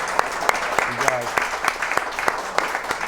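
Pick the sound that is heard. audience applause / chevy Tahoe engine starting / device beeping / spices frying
audience applause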